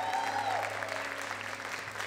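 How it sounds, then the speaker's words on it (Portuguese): Applause from an audience at a Catholic community concert, steady dense clapping throughout, moderately distant with a faint tone lingering underneath. "Gostaria de pedir uma grande salva de palmas"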